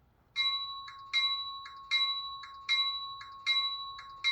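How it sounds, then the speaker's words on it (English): A bright steel bell from a Rapido HO scale FL9 model locomotive's sound system rings steadily, six even strikes with a ringing tone that sustains between hits, clear and alone. "It's a steel bell, I would say my favorite bell."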